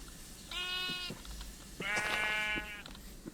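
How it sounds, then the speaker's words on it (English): A sheep in the video game Minecraft bleats twice, each call clear and close, with a short pause between them over a quiet background. "Hey, sheep, get over here."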